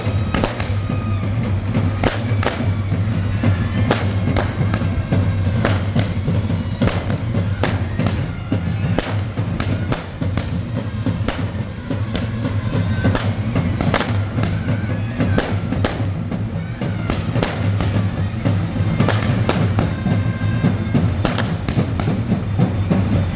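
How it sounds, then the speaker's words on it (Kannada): Firecrackers burst outdoors in a village, a long string of sharp cracks and thuds popping irregularly and rapidly, some close and loud, over a constant low background rumble. "ಇವಾಗ ಪಟಾಕಿ ಹೊಡಿತಾರೆ, ಪಟಾಕಿ ಸೌಂಡ್ ಕೇಳಿಸ್ಕೊಳ್ಳೋಣ"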